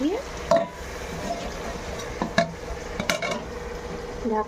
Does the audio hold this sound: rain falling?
no